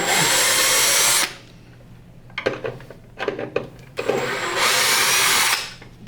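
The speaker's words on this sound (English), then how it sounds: "so we gotta take these screws out because I forgot to put the circuit board back in" A power drill backs screws out of a Prolux CTX vacuum, with two loud, close whirring runs of about a second each and a few light clicks and rattles from handling in between.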